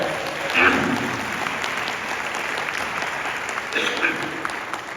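An indoor audience at a leadership event applauds a colleague, a dense steady roar of many hands clapping throughout, fairly loud and close, with a couple of brief voice bursts rising above it.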